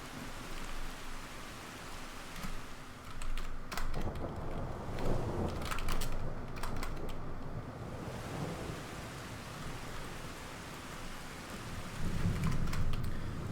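Steady rain hiss with repeated rolls of thunder, used as an effect in a fan game trailer edit, rumbles swelling and fading several times over a constant downpour, no voices.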